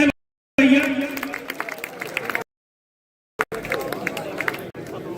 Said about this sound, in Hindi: तालियां बजाते रहे भैया।